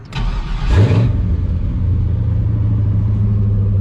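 An LS-swapped Chevrolet C10 that has sat unused for a while cranks briefly, fires up with a loud rev and then settles into a steady, rumbling idle close by.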